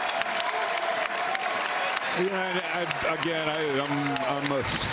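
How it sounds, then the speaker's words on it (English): A college basketball crowd at an NC State Wolfpack home game on senior day roars and applauds loudly and continuously, with commentators talking over the cheering. "gets an absolute roar from this Wolfpack crowd"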